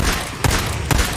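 Two sharp gunshots in the zombie video game Days Gone, spaced about half a second apart, loud and punchy over a dense game background.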